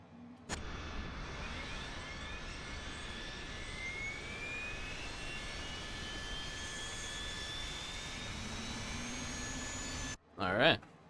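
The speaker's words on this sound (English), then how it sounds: "So the engine number 2 is starting here." Second jet engine of a Phenom 100 spooling up in Microsoft Flight Simulator 2024, a steady loud turbine whine and rising roar holding for about ten seconds before cutting off, with a brief burst of other sound at the end.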